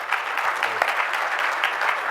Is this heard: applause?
yes